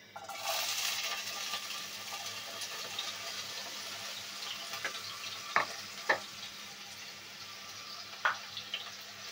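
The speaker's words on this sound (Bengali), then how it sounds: "আলুগুলো ভেজে নেব।" Potatoes sizzle and fry in a pan on the stove for a Bengali lentil dish of chana dal with raw papaya, a steady hiss running throughout with a few sharp pops and stirring scrapes near the end, no talking.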